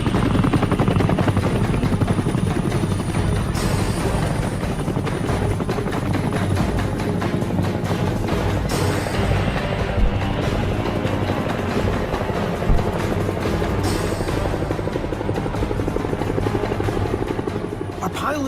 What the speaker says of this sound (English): forcing U.S. choppers to come to their rescue